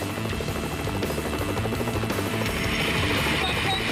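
A helicopter gives a steady, loud rotor drone with a rhythmic chopping pulse and engine hum throughout, close and continuous, during an outdoor reality-competition challenge.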